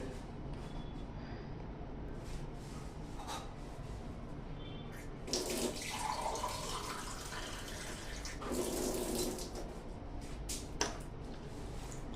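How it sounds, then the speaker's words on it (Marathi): Water is poured into a pot of Konkan-style tomato saar to thin it, two short quiet splashing pours against a soft kitchen background. "थोडंसं पाणी मी याच्यामध्ये घालून घेते।"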